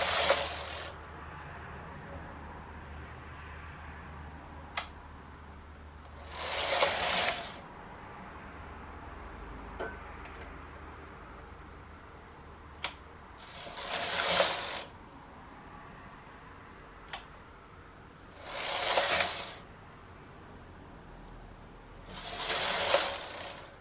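A knitting machine carriage makes five broadband swishing passes while knitting the back of a dress, one roughly every six seconds, with sharp mechanical clicks between the passes over a quiet background.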